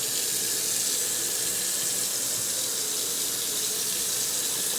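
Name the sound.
water running from sink faucet onto hand towel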